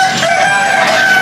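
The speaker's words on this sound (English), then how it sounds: "So already we see some roosters." At Chatuchak market in Bangkok, a rooster crows loud and near, one sustained, strained cock-a-doodle-doo held across the whole moment with a slight rasp.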